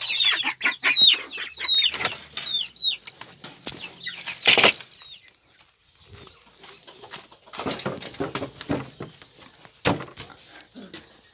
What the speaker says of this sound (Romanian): Aici avem porumbei.